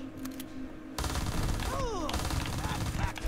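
Tec-9 submachine gun firing in a video game: a sustained rapid burst of automatic shots starting about a second in and running to the end, loud and continuous, with faint talk underneath.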